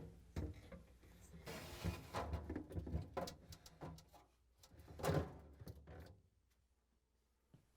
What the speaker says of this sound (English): now I'm going to slide the shelf in.